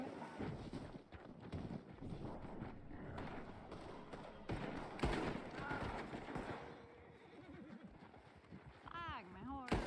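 A horse in the Red Dead roleplay video game clip-clops and whinnies, its hooves thudding steadily while people talk, with a rising neigh clearly heard near the end.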